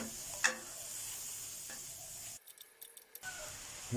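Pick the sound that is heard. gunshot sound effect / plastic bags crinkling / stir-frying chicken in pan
stir-frying chicken in pan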